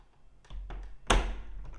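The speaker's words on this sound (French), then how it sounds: "On referme la porte." A door swings shut indoors with a few soft clicks and knocks, then lands in one solid close-up thud that rings briefly in a quiet room.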